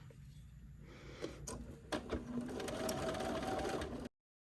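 A sewing machine stitches close along a fabric fold on a quilted tote bag, its steady motor whir rising after a brief start with a few clicks, close and fairly quiet with no talk.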